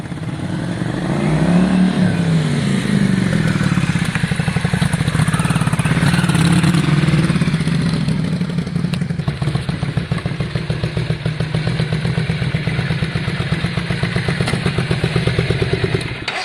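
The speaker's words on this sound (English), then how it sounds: "The back spitting on overrun is quite normal guys, on these bikes, so the back spitting on overrun is fine." A Yamaha Virago 500 with straight drag pipes revs loudly and close by, its raw exhaust bark broken by rapid crackling pops and spitting as the throttle closes on overrun.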